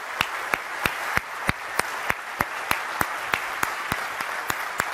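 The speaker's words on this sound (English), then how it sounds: "Give them a big round of applause" An audience gives a round of applause, a steady wash of clapping with one sharp, evenly spaced clap cutting through on a regular beat throughout.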